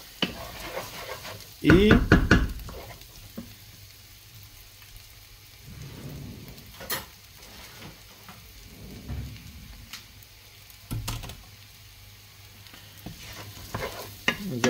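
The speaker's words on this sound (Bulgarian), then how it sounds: "Запържваме си ориза" Rice toasting in a hot pan for risotto, giving a steady soft sizzle with scraping stir strokes, a louder burst near the start, and a brief spoken word.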